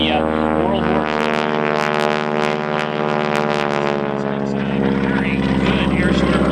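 A big red aerobatic biplane performing at a Northern Illinois airshow passes with a loud, throbbing radial engine and propeller drone, steady and close with pulsing surges, while a voice talks over it.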